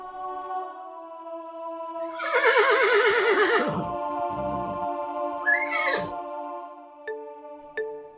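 A black horse lets out a loud, close, shuddering whinny that rises and trembles, then breaks into a second shorter neigh and a few snorting sounds, with no talk over it.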